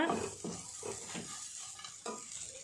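Potatoes and green peas in a curry base fry and get stirred in a pan, with a soft steady sizzle under a few scraping strokes of the spoon, quiet and close with no voices.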